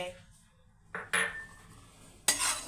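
Peanuts, dal and sesame seeds being dry-roasted in a pan, with a few sharp utensil scrapes and clinks against the metal, separated by quiet stretches; no talking.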